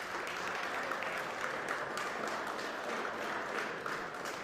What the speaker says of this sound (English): Give a nice round of applause to everybody from Ireland Lacrosse that came here tonight.